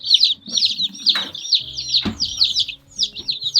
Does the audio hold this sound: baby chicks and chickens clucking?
yes